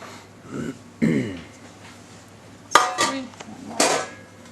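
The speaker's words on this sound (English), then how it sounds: "So just make sure you get into all the corners when you grease the pan." Metal bread loaf pans being greased and handled in a home kitchen, with scattered clanks and scraping knocks of the pans set down and moved, plus a brief throat sound between them.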